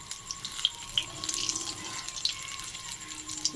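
Tap water running into a sink while chicken feet are washed, a steady gentle stream with small splashes and clinks of the feet against the basin, close and fairly quiet, no talking.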